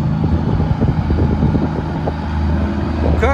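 Low, steady rumble of a Kenworth W900L truck engine idling nearby while parking, heavy and continuous for a few seconds, with a brief faint higher tone near the end.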